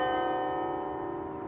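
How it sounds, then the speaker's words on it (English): The 53-bell Netherlands Carillon, a 127-foot tower on Arlington Ridge in Arlington, Virginia, sounds with sustained, ringing bell tones that hang steadily in the air, rich and resonant with no voices over them. "a 127-foot structure that houses 53 bells called a carillon"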